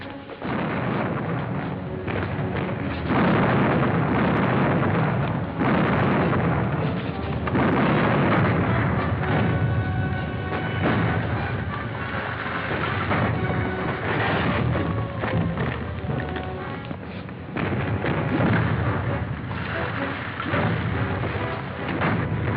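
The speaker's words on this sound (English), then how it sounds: "Load your cannons." Cannons fire from a pirate ship in a 1953 Captain Kidd adventure serial, a dense, continuous barrage of heavy booms and rumbling blasts that stays loud and roaring throughout with no pause, over a muffled, band-limited soundtrack.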